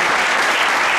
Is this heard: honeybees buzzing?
no